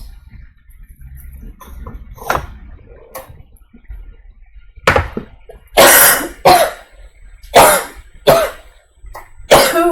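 Several sharp coughs and throat clearing sound close by in a home kitchen during cooking, coming in a quick cluster of bursts near the end after quieter handling noises.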